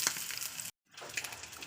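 Fish frying in a pan, a steady hissing sizzle with small crackling pops, briefly cut to silence before the sizzle returns.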